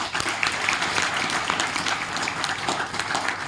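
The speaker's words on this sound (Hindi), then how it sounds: "सभी को जोरदार ताली से स्वागत करें" Loud, steady applause from a crowd welcoming guests at a road safety campaign closing ceremony, dense clapping sustained throughout without a break.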